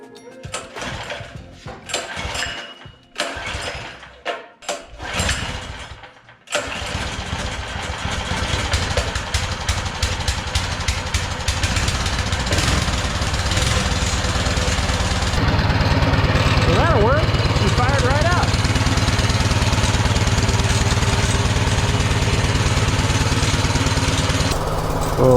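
A Baja Warrior minibike engine with a long-sitting carburetor is cranked through several sputtering pulls, then catches and settles into a loud, steady buzzing idle that runs close to the end.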